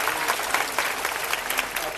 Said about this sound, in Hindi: उनके लिए सबको एक बार जोरदार तालियां बल्ला साहब के लिए